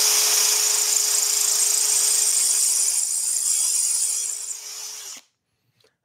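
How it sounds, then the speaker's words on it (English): A drill bores through a tulip wood puzzle box with a steady, high-pitched whine under gentle downward pressure, running continuously and near before cutting off abruptly, leaving near silence. "And then get the drill running."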